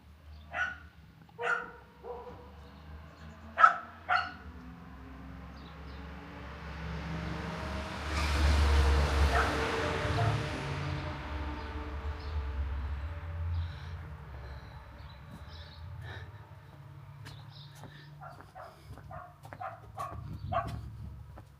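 A small dog inside a house barks in short bursts, a few sharp yips early on and a quicker run near the end, heard from outside through the walls over a low hum and a swell of broadband noise.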